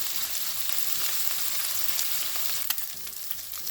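Keto meatballs frying in a pan, a steady close sizzle with a few scrapes and clicks as they are turned, no talking.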